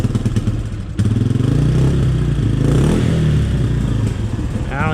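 A Honda CRF230 motorcycle engine idles roughly with the choke half on, its low uneven chug rising and sagging as it struggles to keep running, with a voice talking over it.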